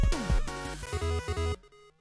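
Chiptune 8-bit music with bright square-wave tones and punchy blips, the beat changing abruptly mid-phrase before cutting to a thin sustained tail; short, moderately loud, no voices.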